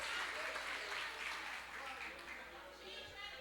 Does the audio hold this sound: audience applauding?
yes